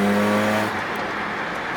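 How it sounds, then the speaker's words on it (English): Mazda FB RX7 accelerating at full throttle, a loud close engine roar that holds a strong steady tone for under a second, then turns into a rougher rushing drone. "As you can see, this car really does run great if I floor it."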